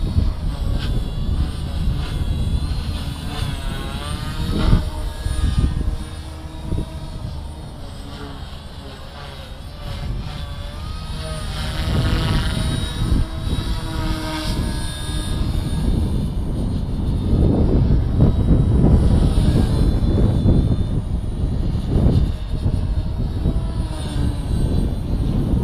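A Gaui X2 RC helicopter flies fast forward outdoors with a continuous buzzing rotor and motor drone that rises and falls as it passes and climbs. Wind noise and occasional voices sit underneath.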